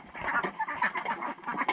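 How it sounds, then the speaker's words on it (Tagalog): Ducks quacking in a run of repeated nasal calls, close and fairly loud, several birds overlapping with no talk. "So itong itik na to,"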